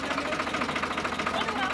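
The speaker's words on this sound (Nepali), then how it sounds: "ट्र्याक्टर सवारी कस्तो लागिरहेको" A tractor engine runs during a ride, chugging with rapid, regular pulses that stay close and continuous at a moderate level.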